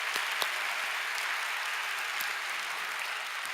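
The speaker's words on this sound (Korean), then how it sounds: "우리끼리니까 우리 박수 치지." A church congregation at an evening young adults' service claps together in one steady, dense wash of applause that carries on evenly from start to finish with no talking over it.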